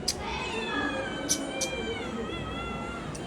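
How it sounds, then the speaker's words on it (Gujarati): A hungry cat meows for biscuits with a long, drawn-out, wavering cry heard up close, with a few sharp clicks in the background. "હું ડેઈલી બિલાડીને બી નાખું ને એટલે એને ભૂખી થાય ને એટલે અત્યારે આવી છે"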